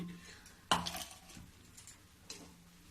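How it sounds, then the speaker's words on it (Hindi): Ice dropped into a cooking vessel while preparing peas for storage: one sharp clattering impact with a brief rattle, then a fainter second knock, in a quiet kitchen. "ये बर्फ को मैं उसी बर्तन में डालूंगी जिसमें मैं पहले डाली थी।"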